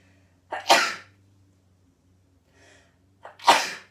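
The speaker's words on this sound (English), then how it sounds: "the sneeze diverts your attention, it diverts your physicality." Two loud, close sneezes about three seconds apart, each a sharp burst with a brief inhale before it, and near silence between them.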